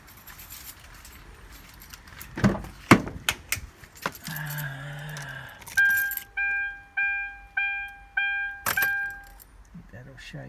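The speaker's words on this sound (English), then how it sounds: "I'll just start the van up so you can hear the engine go." Keys jangle and click in the ignition of a 2013 Hyundai iLoad diesel van, then the starter cranks briefly before a series of regular dashboard chimes beep in a quiet cab.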